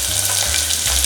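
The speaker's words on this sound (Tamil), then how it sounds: "பொரியுது." Green chillies, onion and curry leaves fry in hot oil, giving a steady, close crackling sizzle that runs through the whole short moment with no voices.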